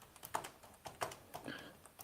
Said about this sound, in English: I think got Dan going hard on the keyboard